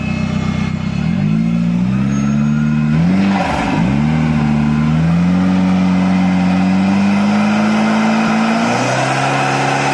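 A turbocharged car engine with a manually shifted 4N71 automatic transmission and a manual valve body revs loudly and close, its pitch rising and falling steadily with a brief dip midway, with no voices over it.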